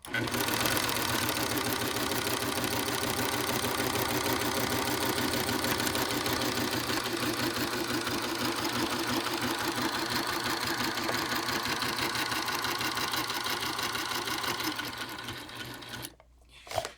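A serger overlock sewing machine runs without thread, giving a loud, close, steady mechanical whir with a fast rattling rhythm that holds for about fifteen seconds, then winds down and stops.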